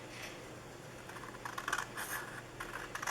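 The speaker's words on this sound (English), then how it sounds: "you're just going to cut this side off" Paper being cut with scissors to shape a small handmade treat bag, soft close snipping and rubbing scrapes that grow a little busier toward the end, with no one talking.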